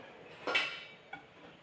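A single soft metallic clank as a pot is set down, followed by a faint lighter tap, in an otherwise quiet room.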